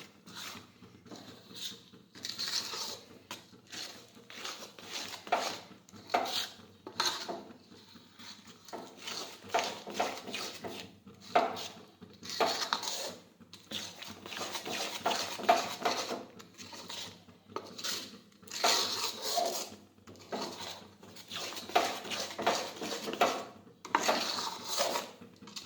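A spatula scrapes and stirs a thick mandvi pak mixture around a pan, giving repeated rhythmic scraping strokes at close range with no talk.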